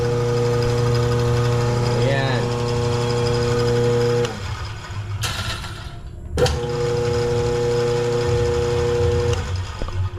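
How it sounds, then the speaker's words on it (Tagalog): A 1.5 horsepower induction motor runs with a steady tonal hum, briefly cutting out midway before restarting with a sharp surge and settling back into its even drone. "Eto, papaandarin natin."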